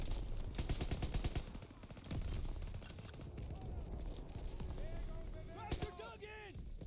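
Rifle and machine-gun fire from the World War II shooter Call of Duty: WWII crackles in rapid bursts at the start, then gives way to battle noise and shouting voices over the din.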